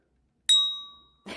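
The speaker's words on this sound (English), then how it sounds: "Let's go ahead and do a bell for luck." A small bell struck once for luck, ringing with a clear bright tone that fades slowly over about a second, followed by a brief rustle.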